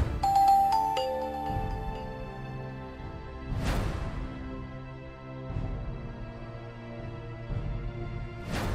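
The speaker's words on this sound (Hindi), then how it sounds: "वकार का मैसेज आया है।" A phone's message notification chime rings out in a short series of bright tonal notes, followed by ringing melodic tones that recur across several seconds, standing alone without talk.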